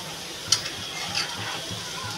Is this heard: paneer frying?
yes